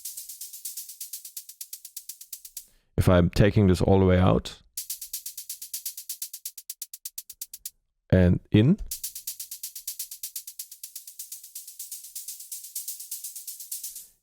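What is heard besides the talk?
vocoder set to noise, white noise synth effect in Ableton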